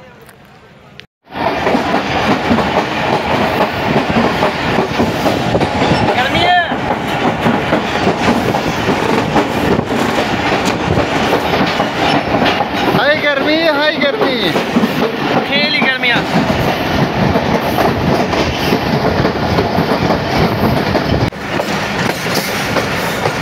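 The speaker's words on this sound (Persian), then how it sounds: "این هم قطار از من" A train rumbles past close by near Lahore, a loud steady roar with clattering wheels and a few brief high squeals, people talking faintly underneath.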